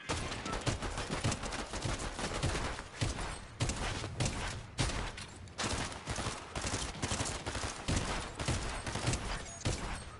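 Rapid gunfire from a shotgun in Fortnite during a busy firefight, with repeated loud blasts and thuds packed densely over dense game noise, no talking.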